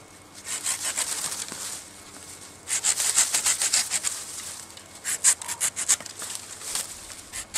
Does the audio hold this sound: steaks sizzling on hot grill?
no